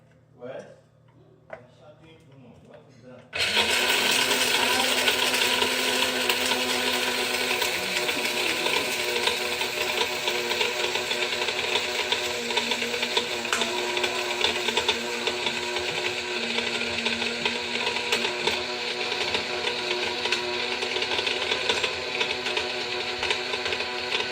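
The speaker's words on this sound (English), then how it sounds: "This small coffee blender can hold a lot of stuff inside." A small electric coffee blender grinding white pepper: after a few soft clicks it starts abruptly and then runs as a steady loud whirring motor hum with a buzzing rattle, continuing unbroken to the end.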